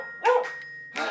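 A dog lets out a short, high bark followed by a second yelp a moment later, close and clear against a quiet background.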